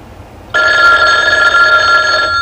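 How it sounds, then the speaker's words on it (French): A telephone bell rings loudly and steadily in an indoor scene, starting abruptly after a brief quiet moment and continuing without pause. "Ne réponds pas, Houston."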